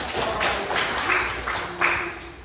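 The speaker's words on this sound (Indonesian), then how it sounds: "Ya, tepuk tangan kita wanita." Audience applause at a religious talk, a few uneven clapping bursts of moderate loudness, partly mixed with speech.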